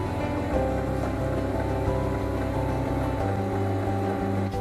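An ice cream machine running for lemon sorbet, a dense, continuous motor hum with steady tonal layers and a slight shift in pitch partway through, close and unbroken.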